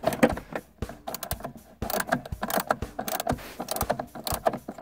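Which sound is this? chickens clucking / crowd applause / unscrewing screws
unscrewing screws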